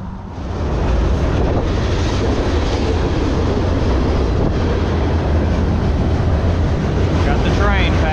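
A train rumbles past nearby in Louisiana, a loud continuous roar with rattling wheel noise that holds steady throughout.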